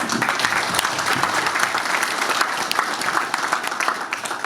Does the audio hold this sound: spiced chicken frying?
no